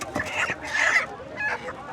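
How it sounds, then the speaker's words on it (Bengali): Native roosters at a poultry market cluck in a few short, close bursts, mixed with nearby voices and market chatter. "চারটা দেশি মোরগ"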